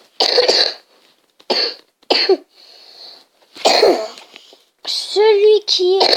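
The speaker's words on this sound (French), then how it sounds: "Celui qui est à côté de moi fait que de tousser." A person close by coughs in several short, harsh bursts with pauses between them, mixed with brief higher vocal sounds, as a child plays Angry Birds.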